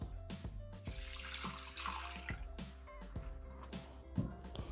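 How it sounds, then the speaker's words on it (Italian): Water pours into the mixing bowl of a Bimby Thermomix kitchen machine, a steady splashing stream running for several seconds over faint background music, with no talk. "Iniziamo la ricetta mettendo all'interno del boccale l'acqua."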